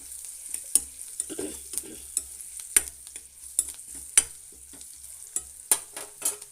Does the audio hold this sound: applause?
no